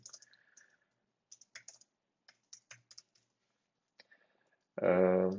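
Someone types order details on a computer keyboard, sparse clusters of light key clicks and taps with pauses between, fairly quiet, ending in a louder burst of different sound.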